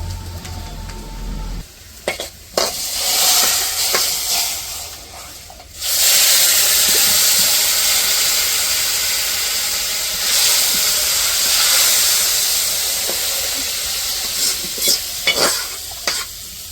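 Onion, garlic and cumin frying in oil for a village-style haleem, loud and close, a continuous hissing sizzle with stirring scrapes and brief gaps.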